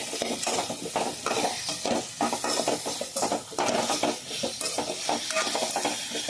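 Chili and salt being stirred into mango curry in a pan: close, continuous sizzling with rhythmic scraping strokes of a spoon against the pan.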